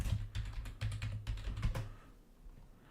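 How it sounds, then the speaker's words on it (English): Rapid clattering keystrokes on a computer keyboard during a networking exercise, close and fairly loud in quick bursts for about two seconds, then fading to quiet room tone. "I keep on typing wrong."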